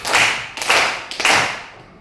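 Three sharp, separate hand claps in a counted classroom rhythm, spaced about half a second apart, close and clear with no voices over them.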